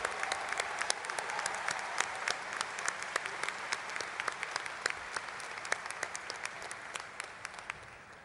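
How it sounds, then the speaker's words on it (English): An audience at a high school graduation claps for the standing faculty, with steady, moderately distant applause holding throughout and crisp individual claps standing out on top of the crowd. "Please stand so we can give you a big round of applause."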